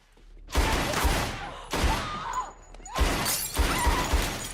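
Gunfire in a movie scene where a woman shoots her sister in front of their parents, heard as several loud, sharp blasts spaced over a few seconds, each followed by a lingering noisy tail.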